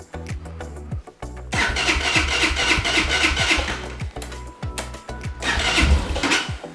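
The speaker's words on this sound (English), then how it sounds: "Here goes the fuel pump." The fuel pump of a KPM 200 street motorcycle primes before its first start, a mechanical whirring buzz that runs in two bursts, broken by short pauses, with light clicks in between.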